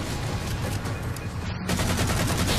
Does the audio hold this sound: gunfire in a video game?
yes